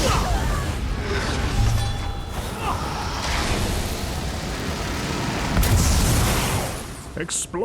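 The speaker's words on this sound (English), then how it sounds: "Explosions!" Explosions and crashing blasts from combat in the video game Elder Scrolls Online, a dense, continuous rumble with a heavier burst near the end, mixed with game sound effects and a voice talking over it.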